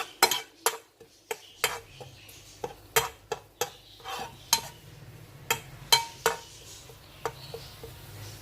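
A utensil scrapes and taps against a pan in irregular strokes while crushed boiled chicken sizzles softly underneath as it is sautéed.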